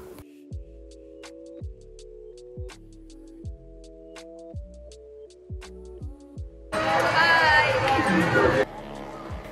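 Crowd noise at a busy village jatra fair in Murbad, Thane, rising in a loud dense burst of babble near the end, after a stretch of rhythmic ticking tones with sparse chatter.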